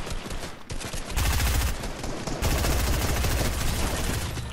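Rapid gunfire in a Fortnite Battle Royale match, bursts of automatic shots rattling loud and close, with a brief pause before heavier sustained firing resumes and continues to the end.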